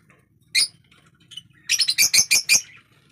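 Several young chicks in a backyard aviary give high, sharp chirps, one call early then a quick run of five or six close tweets, near and fairly loud over a quiet background.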